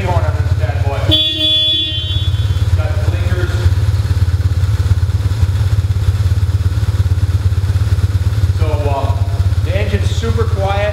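A 2001 BMW R1150GS motorcycle on its factory stainless stock exhaust idles with a deep, even, quiet rumble that runs without break, while a person talks briefly near the start and again near the end.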